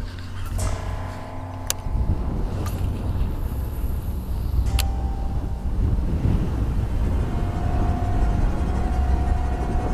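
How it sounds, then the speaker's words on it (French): Strong wind buffets the microphone while someone fishes for pike from a boat, a loud, continuous rumble with a few sharp clicks and faint tones in between. "Si ce vent pouvait se calmer, que je fasse un lancer correct."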